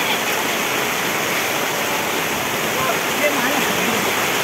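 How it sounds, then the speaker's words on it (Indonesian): Big waves and strong wind on a south coast beach during a storm with heavy rain, making a loud, steady roar of surf and gusts that runs unbroken from start to finish. "Pantai Selatan ombaknya besar, anginnya besar guys, ombaknya besar."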